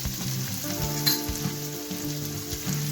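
Pumpkin with green chili paste and fresh coriander stir-fried in a pan, giving a steady close sizzle with a few stirring scrapes and a brief utensil clink.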